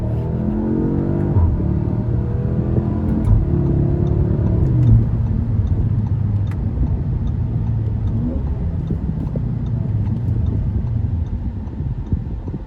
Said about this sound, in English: that is the launch control sequence